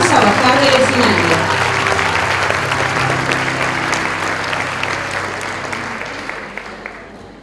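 Audience applause for graduating students at a school graduation ceremony, loud and dense at first with scattered sharp claps, then gradually thinning and fading toward the end.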